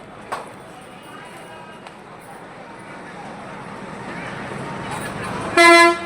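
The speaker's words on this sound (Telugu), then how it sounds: "హార్న్ ఇస్తున్నారు వెళ్ళిపోతుంది బస్సు వెళ్ళిపోతుంది" A bus horn sounds one loud sustained toot near the end, over steady crowd and street noise with a brief knock early on.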